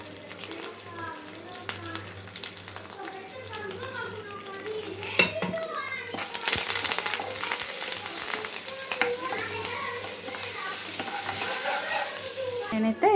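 Prepared masala fries in oil for a stuffed eggplant curry, a steady close sizzle with scattered stirring clatter that grows louder and hissier partway through, and a voice speaks in the background.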